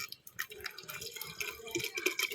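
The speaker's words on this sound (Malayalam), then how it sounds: "നമുക്കിനി ഇതിനകത്തിൽ ഈ മോര് ഒഴിച്ചു കൊടുക്കാം." Buttermilk poured into a container over pieces of an Ayurvedic herbal preparation for piles, a soft close trickle and drip of liquid running for a couple of seconds.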